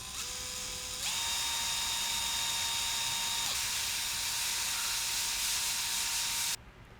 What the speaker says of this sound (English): use this step bit here and get this drilled out big enough so that the tug shaft can fit through the hole